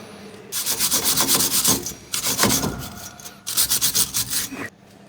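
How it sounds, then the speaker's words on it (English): A wire brush scrubs the threads of a brake adjuster on a Mitsubishi Triton during a late-night brake job, in quick rasping strokes that come in bursts with short pauses, close and loud. "Clean these threads off."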